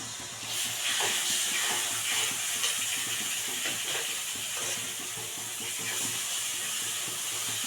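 Tamarind water poured into a hot pan of fried spice powder bursts into a loud, continuous hiss and sizzle that steadies into a bubbling steam rush, close and without talk.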